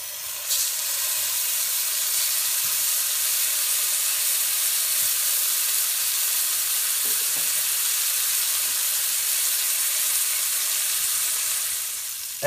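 Sausages sizzle steadily in a hot pan, a continuous bright frying hiss that holds evenly close-up from start to finish with no talking.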